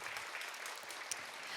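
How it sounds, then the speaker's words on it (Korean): An audience claps steadily at a youth cyber violence prevention forum, a dense even patter of applause heard from a distance at low level with no voices over it. "오늘 함께 하진 못하셨지만 두 분께 박수 한번 보내주시면 좋을 것 같습니다"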